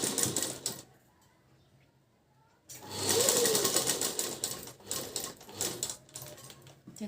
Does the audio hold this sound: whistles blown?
no